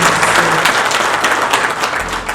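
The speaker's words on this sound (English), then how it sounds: "please could we give our partners a round of applause" An audience at a business conference on Africa's future applauds event partners, dense, sustained clapping filling the room at full volume and tapering slightly at the end, with no speech over it.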